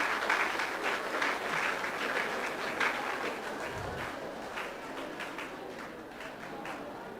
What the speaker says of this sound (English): let me give a big round of applause for Periswamy.